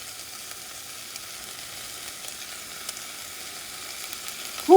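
Minced garlic sizzling in a frying pan for Puerto Rican beans, a soft, steady frying hiss throughout, faint and even, with a brief louder stir or clatter at the very end.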